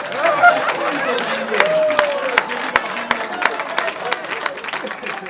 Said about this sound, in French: Applaudissez pour vous, Odi.